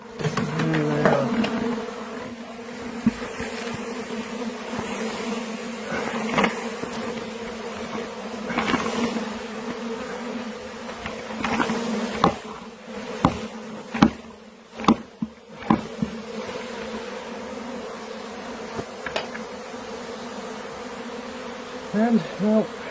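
Honeybees being knocked from a bucket into a hive buzz in a dense, continuous drone throughout, with scattered sharp knocks and bumps of handling the equipment close by.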